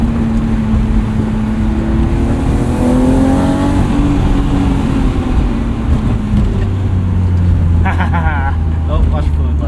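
A 1998 BMW M3 E36 with 250,000 miles accelerates, its engine note rising and shifting in a steady, loud drone heard from inside the car, with people talking over it.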